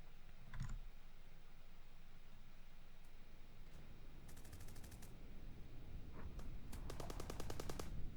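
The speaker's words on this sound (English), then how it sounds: "Weapons fire." Weapons fire in the video game Eternum comes as a couple of quick single shots, then two rattling bursts of rapid automatic gunfire. All of it sounds fairly faint over a low background hum.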